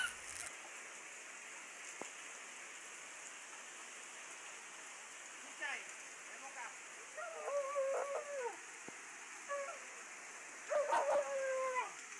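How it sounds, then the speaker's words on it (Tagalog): Heavy rain falls in a steady, even hiss during a storm with strong wind in Zamboanga, while a few people talk briefly and a dog-like sound cuts in near the end. "sobrang lakas nga ng ulan"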